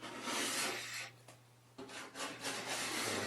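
A hand scraper strips old finish from wood panelling in a few close, rasping strokes, separated by brief pauses and quieter gaps.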